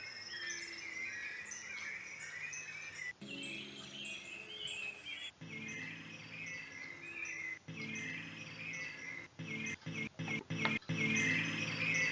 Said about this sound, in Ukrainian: Ось Звуки лісу.